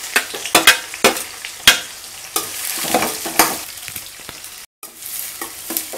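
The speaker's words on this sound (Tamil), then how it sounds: "வெங்காயத்து கூடவே கருவேப்பிலையும் சேர்த்து நல்லா வதக்கிடலாம்." Chopped onions and curry leaves sautéing in a hot pan for a hotel-style poori potato masala, with steady sizzling broken by repeated sharp scrapes of a spoon stirring, close and fairly loud, no talking.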